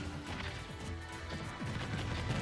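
An up smash attack hits in Super Smash Bros. Ultimate during a tournament match, a crashing impact buried in dense crowd noise and game effects with no clear separation.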